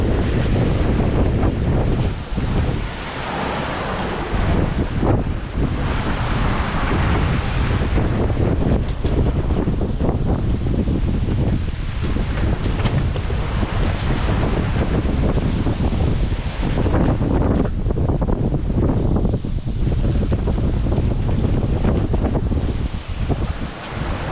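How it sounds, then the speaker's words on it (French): Strong wind roars steadily across the microphone aboard a sailboat heeling hard on a Puerto Rico to Bahamas passage, with waves and surf washing against the hull, loud and continuous throughout. "Là, il y a beaucoup de vent."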